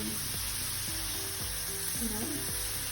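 Onions frying on a high flame, a continuous bright sizzle broken by a few soft scraping stirs, close and fairly loud with no talking.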